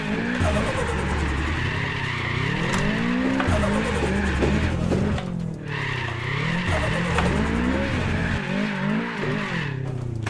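A tuned Toyota Trueno AE86 drifts through a gymkhana course in the racing game Apex Point. The engine revs continuously and rises and falls in pitch under sustained, loud tire squeal, with no talk.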